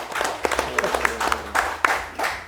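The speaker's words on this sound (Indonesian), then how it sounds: "kita berikan aplaus dulu lah" Audience applause at an education program event in Tegal, a short burst of scattered hand claps with talk running over it.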